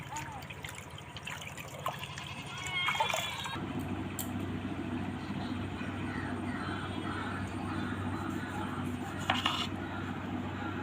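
Mosambi sweet limes are washed under running tap water, a steady close trickle and splash with occasional knocks of the fruit, and faint voices in the background.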